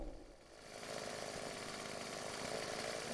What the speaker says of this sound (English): Holy shit, he actually has a chainsaw